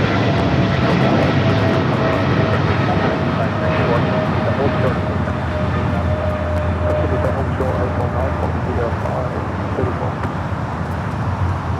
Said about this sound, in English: Aerologic, the 777 freighter early rotation off of 25 right